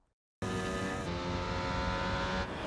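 A Formula 1 car roars in suddenly and loudly, its engine whine sweeping close past before easing off, with no talking.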